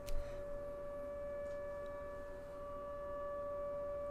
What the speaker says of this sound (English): We have a siren going off right when I said water in town.